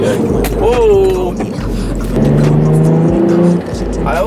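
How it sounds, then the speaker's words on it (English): The engine of a BMW E30 drones on a highway with its damaged exhaust, heard as a loud, continuous interior rumble that rises and falls as the throttle is worked, with road noise and a voice over it. "So when I really give it gas, I can hear my exhaust like slapping the ground."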